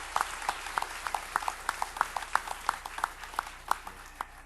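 A church congregation claps after an Easter cantata, a steady run of sharp, fairly even claps that sound somewhat distant and thin, with no voices over them.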